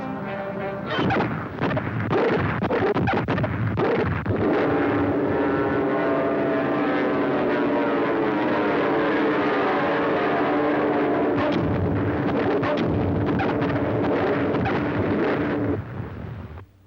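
American dive bomber aircraft roar through a cartoon naval battle against Axis submarines, a loud sustained propeller drone swelling and sweeping in pitch over rumbling blasts, with no talk.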